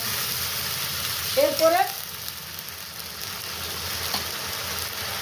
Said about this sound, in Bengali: দিয়ে আমি এই মশলাটা এই করে কড়াইয়ে দিলাম।